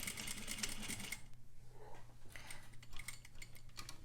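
A sewing machine stitches a Peter Pan collar in a fast, steady mechanical whir for about a second, then gives softer intermittent clicks and taps as the fabric is handled.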